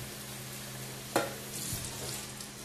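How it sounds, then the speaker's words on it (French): Strasbourg sausages simmer quietly in a pan as a steady, soft hiss, broken by one sharp click near the middle and a fainter knock soon after. "Les saucisses mijotent tranquillement."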